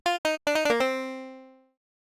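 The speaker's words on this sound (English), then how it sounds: "I'm going to add a short little FM sound," A piano layered with a short FM synth tone plays a few quick staccato notes, then a final note that rings out and fades over about a second, clean and alone.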